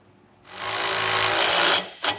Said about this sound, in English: get a nylock nut on and get this tightened down